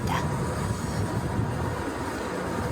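A Gornergrat cogwheel rack railway train, Switzerland's first from 1898, climbs slowly up the mountain near Zermatt, heard from inside as a steady, dense rumble and rattle that stays even throughout.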